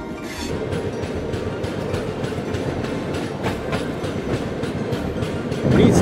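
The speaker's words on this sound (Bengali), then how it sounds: "তো ট্রেনটা এখন আমাদের রাজামুন্দ্রি রেলওয়ে স্টেশন থেকে ছাড়ছে" A passenger train pulls out of Rajahmundry railway station, heard from on board as a loud, continuous rumble with rhythmic clickety-clack of wheels over rail joints, swelling near the end.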